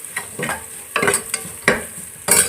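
Capsicum stir-frying in a pan for paneer fried rice, with a soft sizzle under repeated scraping strokes of a spatula in uneven bursts.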